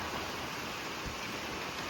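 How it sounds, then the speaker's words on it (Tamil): Light rain begins falling over a turmeric field, producing a steady, soft hiss of drizzle that holds evenly throughout with no voices. "உடனே பாருங்கள் மழை பிடிச்சிருச்சு"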